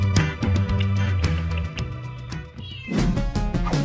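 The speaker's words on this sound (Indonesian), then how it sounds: "Ini ada kucing." A cat meows repeatedly, close and clear, in a quick series of short calls followed by a longer, drawn-out meow near the end, with a faint background hum.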